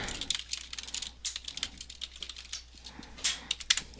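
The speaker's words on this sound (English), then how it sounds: "And then when you type the email out," Quiet, rapid clicking of keys as an email is typed on a computer keyboard, irregular bursts of keystrokes close to the microphone with short pauses, no speech.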